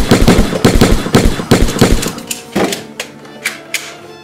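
Rapid gunshots from a gun crack out in a fast, loud, close burst of about a dozen reports, then thin into a few slower, quieter, spaced shots.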